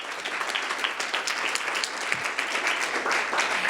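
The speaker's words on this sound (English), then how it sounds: "I'd like to give a big round of applause to our amazing panel and moderator" Steady applause from an audience at a housing voter forum fills the room for the panel and moderator, even and sustained without a break.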